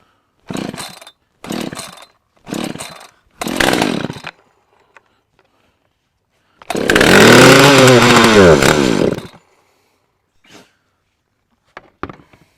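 An Echo Timberwolf chainsaw, fueled and choked, is pulled four times in short bursts, then fires and runs loud and close for about three seconds before cutting out, followed by faint clicks.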